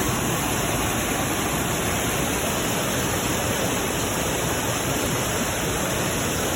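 Loud, steady roar of the Tarapheni River rushing in monsoon flood at Belpahari, a dense continuous wash of torrent noise close by, with no voices over it.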